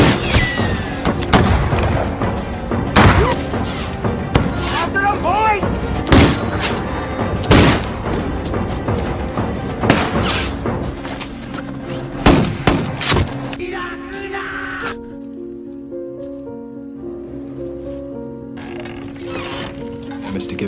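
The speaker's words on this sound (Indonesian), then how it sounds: "Para polisi tak ingin kehilangan mereka, terus menembak dan mengepung mereka berdua." Police gunfire rings out in a forest siege: repeated loud, sharp shots and booming blasts at irregular intervals, mixed with dramatic sound effects and fading toward the end.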